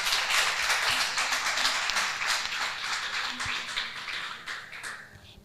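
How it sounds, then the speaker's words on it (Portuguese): An audience applauds a woman invited to the stage at a women's rights event, a dense, steady wash of many hands clapping that gradually thins and fades out. "Quero pedir uma forte salva de palmas para ela também"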